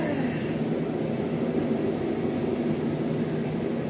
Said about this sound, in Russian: Наш дорогой любимый поезд.